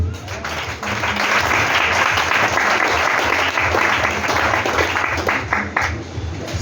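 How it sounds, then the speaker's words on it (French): A church congregation breaks into loud, sustained applause and clapping, a dense crowd sound filling the room for several seconds. "Et acclame Jésus"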